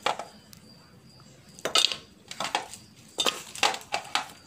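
A pressure cooker being picked up and handled in a kitchen while mutton soup is prepared, heard as a series of close metallic clanks, knocks and scrapes in uneven bursts against a quiet background.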